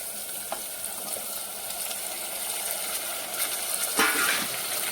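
Mutton fat and tomatoes frying in hot oil in a pan, a soft continuous sizzle with a few light clinks and a brief louder hiss near the end, no voices.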